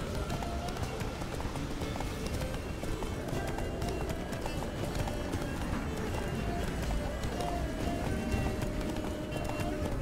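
Horse galloping in The Witcher 3 while a companion talks over it; steady, continuous clip-clop hoofbeats run throughout at an even, moderately loud level, mixed with game ambience.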